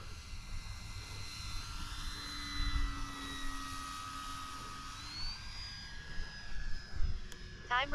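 A radio-controlled model airplane, a Viper or Turbo Timber Evo, whines steadily overhead with a rising and falling turbine-like pitch, moderately distant, alongside outdoor wind noise and occasional voices.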